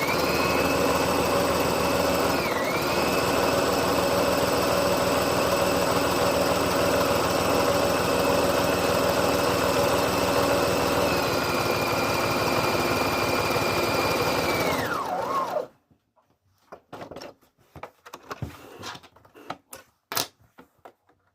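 A Brother ST371HD sewing machine stitches at a steady fast whir with a rapid mechanical hum that slows briefly once. It then stops abruptly and leaves a few quiet clicks and handling noises.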